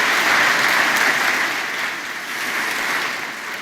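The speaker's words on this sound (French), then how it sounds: "on a envie de vous remercier et de vous applaudir une nouvelle fois" An audience applauds at the close of a two-day conference session, a dense, even wash of clapping from a large crowd that holds steady throughout.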